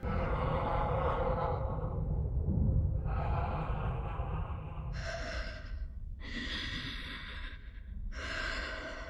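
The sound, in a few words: breathing like Darth Vader inside a helmet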